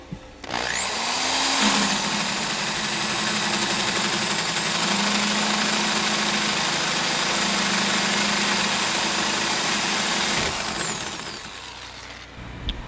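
A power drill whines steadily at high speed as it bores into a 27-gallon plastic Kratky tote, running loud and close for about ten seconds before winding down.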